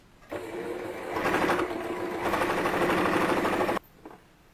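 A sewing machine stitching a seam 1 cm from the edge of a ruffled dress, one steady run of fast needle clatter that starts sharply, holds for about three seconds, then stops abruptly.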